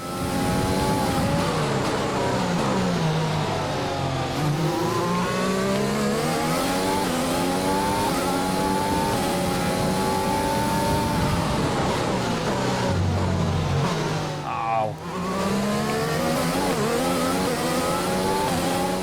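A race car engine screams and accelerates through rising and falling gear changes in an F1 racing video game, the YouTube Racing Team car at the Bahrain Grand Prix. It is loud, close and continuous, with a brief dip near the end.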